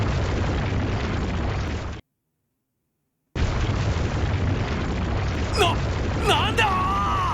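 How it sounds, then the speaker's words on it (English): A bomb explosion in the video game Trails to Azure comes as a loud, sustained roaring blast, broken by a short silent gap and then more rumbling, with voices crying out over it near the end. "Someone set up a bomb."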